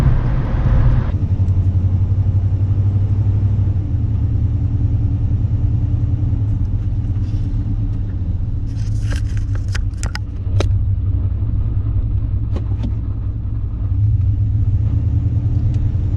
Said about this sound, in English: this is the first drive here to look at my 95 GMC Sierra